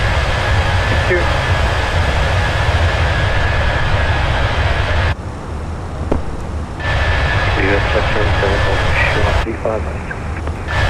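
A steady loud aircraft engine hum and roar at Innsbruck airport near the runway before takeoff, with air traffic control radio voices cutting in and out over the drone.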